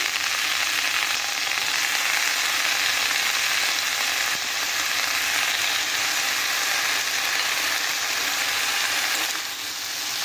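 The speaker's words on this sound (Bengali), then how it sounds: "এবার এই কুমড়ো পাতাগুলোকেও আমরা খুব ভালোভাবে ভাজা করে নেব।" Young pumpkin leaves fry in hot oil with cumin seeds in a pan, giving a steady, loud, continuous sizzle with no talking throughout.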